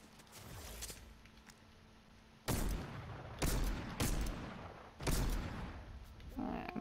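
Pistol shots fire in the sideways-scrolling game Dark Voyager: about four loud, sharp cracks spaced a second or so apart, each ringing out over a quieter droning background.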